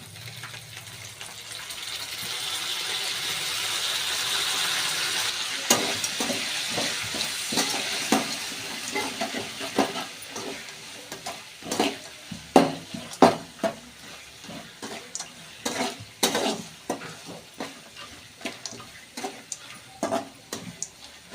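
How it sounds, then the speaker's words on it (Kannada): Grated raw mango and a squeeze of lemon stirred into a hot frying tempering in a pan: a soft sizzle builds, then repeated scraping clicks and taps of the spoon in uneven rhythm, close and moderately loud. "ಇವಾಗ ಲಾಸ್ಟಲ್ಲಿ ಮಾವಿನಕಾಯಿ ಹಾಕೋತಾ ಇದ್ದೀನಿ ತುರಿದಿರೋ ಮಾವಿನಕಾಯಿ"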